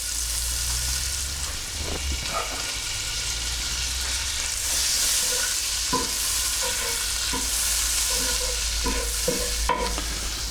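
Butter and olive oil heat in a pan over low to medium heat, giving a steady close hiss with scattered small clicks and utensil taps throughout.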